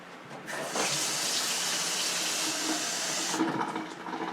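Water runs steadily from a kitchen tap for several seconds, a close, even hiss that starts suddenly and fades toward the end, with no talking.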